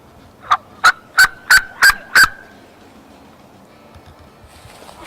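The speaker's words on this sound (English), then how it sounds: "He's a big old gobbler." A wild turkey gobbles loudly and close by, six quick evenly spaced notes in a little over two seconds, then quiet outdoor background, with no talking.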